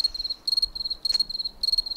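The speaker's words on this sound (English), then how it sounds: "yes, crickets" Crickets chirp in quick rhythmic bursts, each trill repeating steadily at a clear, moderate level with nothing else heard.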